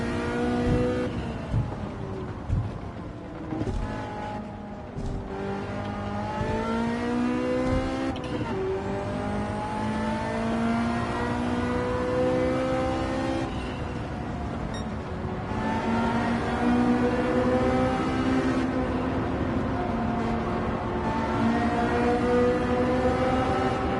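An old car's engine revs hard and continuously in the Gran Turismo 7 racing game, with rising and falling sweeps of pitch as the revs climb and drop through the gears, loud and sustained without speech.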